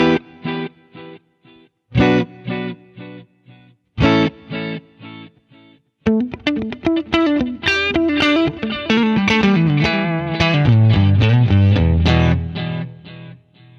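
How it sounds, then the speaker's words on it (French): Electric guitar notes and chords ring out with a delay echo, each phrase repeating at regular intervals before a denser, distorted passage builds. "il s'agit simplement d'un écho, donc ce que l'on joue à la guitare va être répété à intervalles réguliers"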